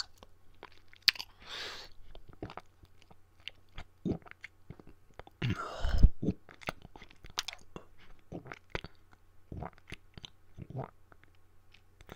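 Close, binaural chewing and crunching bites with wet mouth clicks, scattered in irregular bursts across the clip, with a few short breathy vocal sounds in between, as a vampire bites and feeds in a roleplay ASMR setting.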